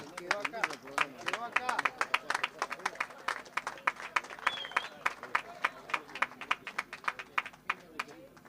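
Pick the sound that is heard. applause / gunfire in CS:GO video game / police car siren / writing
applause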